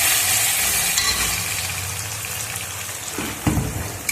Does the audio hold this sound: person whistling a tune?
no